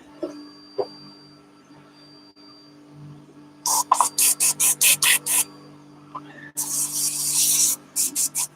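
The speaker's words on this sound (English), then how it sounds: "Cool, that's spraying." Paint thinned with reducer sprayed onto a model, a quick series of short hissing bursts followed by a longer continuous spray and two final short puffs, close by over a faint electrical hum.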